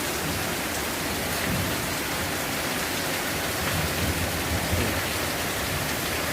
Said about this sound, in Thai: ฝนตกเป็นชั่วโมงหรอครับนี่